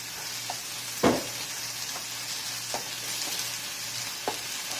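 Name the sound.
spinach and green chili paste frying in a pan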